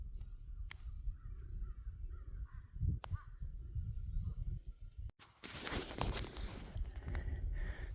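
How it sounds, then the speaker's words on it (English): Crows in an open field, several harsh caws in a short series over quiet outdoor background noise, followed by a sudden change to louder, broadband rustling and noise. "there were crows and buzzards in that field just sunning themselves"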